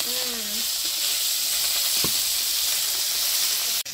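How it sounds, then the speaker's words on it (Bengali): A broken fish head frying in oil in a pan, giving a loud, continuous close sizzle with a brief utensil scrape partway through. "এই যে এইভাবে ভেজে নিয়েছি লাল লাল করে"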